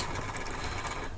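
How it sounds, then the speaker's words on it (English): An office printer-scanner warms up with a steady low mechanical whir and faint rhythmic chatter, quiet and close, with no talking. "get the printer, it's going to warm up first."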